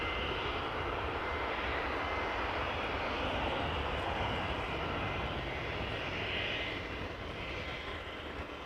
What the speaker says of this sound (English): The Neo is still accelerating on the runway.